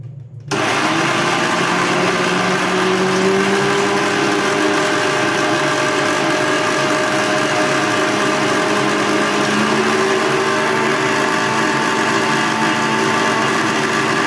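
Electric spice grinder whirring steadily for a long stretch, loud and close, grinding dried chili into powder for homemade kitchen king masala.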